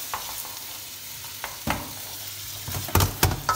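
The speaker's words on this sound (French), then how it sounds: "je la fais revenir un petit peu, donc avec les champignons et les lardons" Mushrooms and lardons sautéing in a pan in cream for a quiche lorraine: a soft, continuous sizzle with occasional scraping stirs and a few sharper utensil knocks near the end, no voices.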